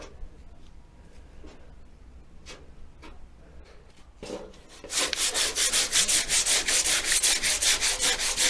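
Hand sanding of body filler on a car body panel with 120 grit sandpaper: scattered light scrapes at first, then a steady run of rapid, rhythmic back-and-forth rubbing strokes, close and fairly loud.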